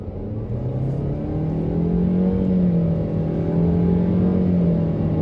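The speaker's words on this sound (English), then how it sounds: "keep listening to the engine note, and now I'm going to give it a full kick down." A 2020 Renault Duster turbo petrol CVT engine drones under a full kick-down, a loud, steady rising hum inside the cabin that swells and holds without breaks.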